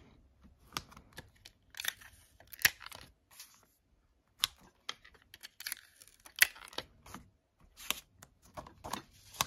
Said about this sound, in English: I'll just put some nice big pieces of tape in all four corners.